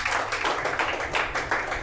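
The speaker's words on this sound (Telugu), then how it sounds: "గట్టిగా చప్పట్లు కొడదాం." A church congregation at a pastor's sermon claps loudly in dense, rhythmic unison, a close and continuous wall of hand claps with no speech over it.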